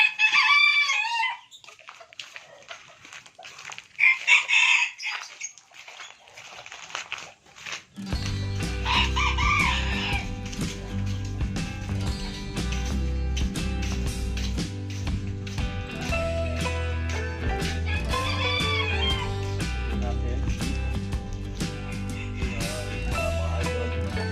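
Pet chickens clucking in short bursts, then a long stretch of loud, layered crowing and clucking from several birds close by.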